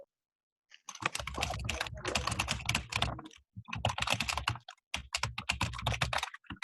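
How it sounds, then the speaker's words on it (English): Rapid typing on a computer keyboard comes in bursts of dense clicking with short pauses between them. It is close and fairly loud, and no one speaks during an online club meeting. "I'm hearing a lot of typing."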